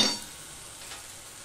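Washed green peas land in hot spice paste in a pan, giving a short burst of sizzle followed by a faint, steady frying hiss.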